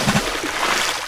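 Water splashes and sloshes loudly and close up in a brief, continuous burst.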